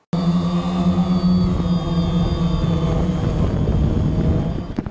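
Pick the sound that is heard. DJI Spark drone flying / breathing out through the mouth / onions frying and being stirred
DJI Spark drone flying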